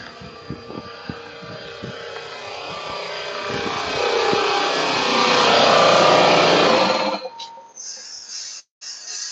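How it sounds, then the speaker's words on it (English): A running air compressor in a motorcycle workshop during a Kawasaki Ninja ZX636 chain and sprocket job roars loudly and steadily up close, the noise swelling and then cutting out abruptly near the end. "let's shut off the air compressor"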